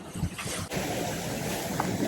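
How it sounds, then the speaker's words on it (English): Large sea waves surge around a sailboat on an open-water passage from Sicily toward Montenegro, a dense rushing wash of water and wind roar close by, with no talk. "we have such huge waves"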